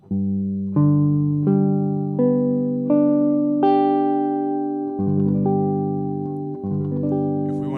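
Guitar notes of a barre chord are picked one at a time, each ringing on as the next enters, stacking into a full chord followed by a few more single notes.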